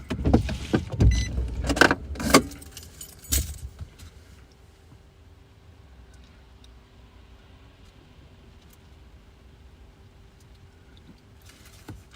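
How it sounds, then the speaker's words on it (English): Windshield wipers on a car in the rain sweep with a few loud motorized swishes and thumps during the first few seconds, then a quiet steady cabin hum. "I'm going to use the windshield wipers for you guys real quick"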